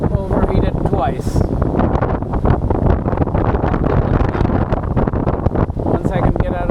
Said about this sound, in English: Once I can get out of this wind. It's ridiculous.